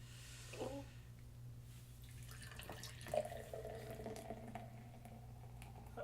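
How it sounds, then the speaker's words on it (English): Lagunitas Undercover Investigation Shut-down Ale being poured into a glass, a faint liquid splash and trickle with a low background hum, quiet and close with no talk. "Let's give it a good pour."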